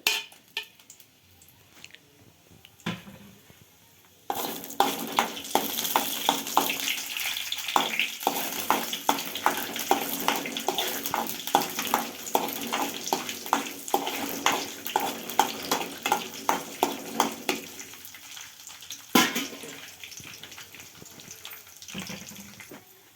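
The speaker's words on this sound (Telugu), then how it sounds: "నూనె పోసుకొని, నూనె వేడెక్కేసింది. తాలింపులు అయితే వేసుకుందాం." Mustard, cumin, dried red chillies, curry leaves and garlic temper in hot oil in a pan, which erupts into a loud, dense crackling sizzle after a quiet start and then settles to a softer fry.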